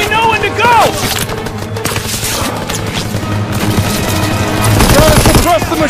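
Machine gun fire in a Call of Duty WWII battle at Hill 493 in the Hurtgen Forest: loud, sustained automatic bursts with explosions, under shouted soldier chatter and dramatic music.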